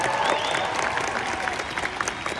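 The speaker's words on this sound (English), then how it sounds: "Give her a massive round of applause, Lauren." Dense, steady applause from a large crowd at the Hollywood Bowl on opening night, loud and sustained for the whole stretch with some cheering mixed in.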